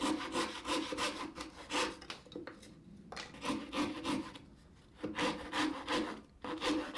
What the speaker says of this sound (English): Cut the puck out with a coping saw, leaving some material around your mark.